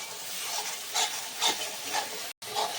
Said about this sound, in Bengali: আর এইভাবে কিন্তু মশলাগুলো বেশ কিছুক্ষণ ধরে আরও নেড়ে